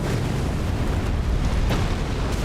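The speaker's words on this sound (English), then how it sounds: "I was outside of the explosion and then I went into the explosion" An explosion in the Elden Ring DLC: a dense, roaring blast of rumbling noise that stays loud and sustained throughout, with no talking.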